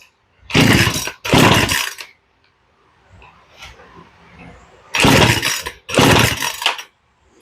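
Poulan Pro chainsaw, choke off, pulled for a cold start: four loud, separate bursts of the starter cord rasping and the engine sputtering, in two pairs, with quiet gaps between them and no catch.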